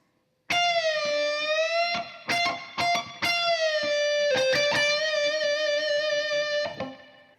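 Distorted electric guitar plays a lead passage, sustained notes with full-step bends and quick picked runs, loud and up front, with no speech.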